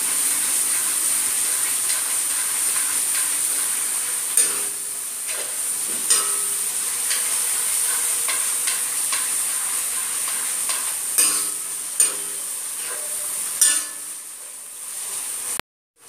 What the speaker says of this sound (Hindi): मैंने गैस की फ्लेम को फुल रखा है, ध्यान रहे सिम नहीं करना है हमें, इस तरीके से हमें हिलाते रहना है।